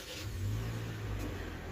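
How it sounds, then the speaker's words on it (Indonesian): A Toyota Rush engine starts from the push start-stop button and settles into a low, steady idle hum. It is heard close and fairly quiet, with no talking. "tekan start stop engine button di sebelah kanan sini untuk menyalakan mesin ya"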